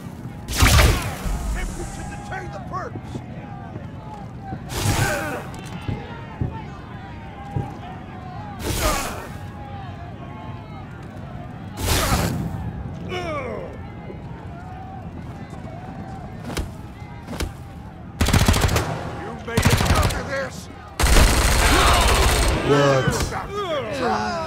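Turret gunfire in the video game Wasteland 3 during the Patriarch final battle: loud, abrupt bursts recur every few seconds, some in rapid clusters, over a busy background of game effects while a player talks.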